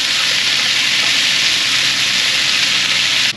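Cheddar sausage fries in a pan in an RV kitchen with a loud, steady, broadband sizzle that holds constant throughout and stops abruptly at the end.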